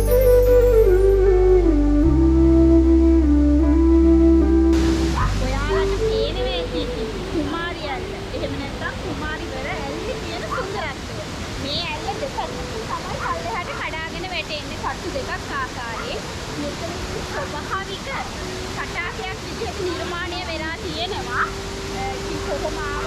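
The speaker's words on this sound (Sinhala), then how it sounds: "මේ ඇල්ලට කුමාරි ඇල්ල කියලා නම වැටලා තියෙන්නේ" Kumari Ella waterfall in Sri Lanka pours with a steady, full rush of falling water. It comes in after a few seconds of music and carries on under people talking.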